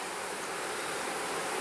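Honey bees in a queenless hive give off a steady, dense buzzing drone that stays even throughout, close and moderately loud, with no voices.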